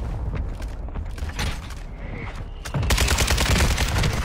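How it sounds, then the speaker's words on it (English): Bursts of rapid gunfire in a first-person shooter game crackle and boom throughout, growing denser and louder in the final second and a half, with no talking. "Oh, I'm getting shot from out front."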